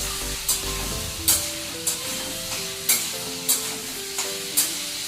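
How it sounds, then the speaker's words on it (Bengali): Soybeans frying in a pan on a home kitchen stove: a steady sizzle runs throughout, broken by regular scraping stirs of a spatula about once a second, with faint background music and no speech. "আর এখানে এই যে সয়াবিনটাও ভেজে রেখে দিচ্ছি"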